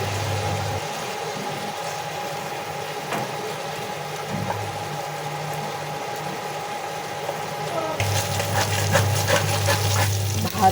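Thin chicken slices marinated with lemon, turmeric, ginger and garlic fry in a pan with a continuous close sizzle under a low steady hum that grows louder near the end.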